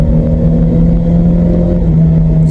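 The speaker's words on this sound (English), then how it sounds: "It took me revving it off the red line to change gear then." Car with a faulty automatic gearbox revving hard near the red line, a loud sustained engine drone holding steady pitch before dipping slightly near the end, heard close from inside the cabin.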